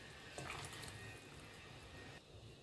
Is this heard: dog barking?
no